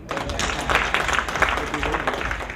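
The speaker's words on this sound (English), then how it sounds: "I thought I'll get a clap from that." Audience clapping at a Kenya diaspora governors' conference in Dallas, a steady patter of many hands filling a large room, with a voice speaking over it.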